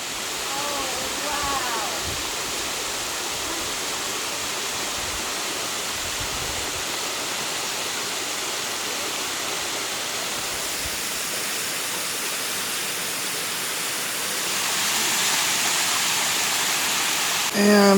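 A waterfall on Henline Mountain pours into a creek of large rocks, making a steady, dense, close rush that swells slightly near the end, with faint voices underneath.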